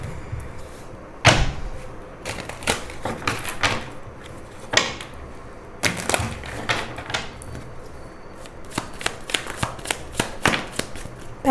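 Tarot cards being shuffled by hand, bursts of riffling and sharp papery slaps in irregular clusters over several seconds, close and fairly loud with no talking.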